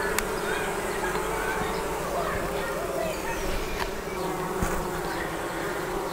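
Honeybees buzzing around a queen isolator cage at a hive, a dense, continuous drone close by with a few faint clicks and bumps mixed in.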